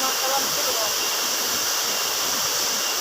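Dolo waterfall in Kediri, East Java, roaring as a steady, dense broadband rush of falling water, loud and continuous throughout with no pauses.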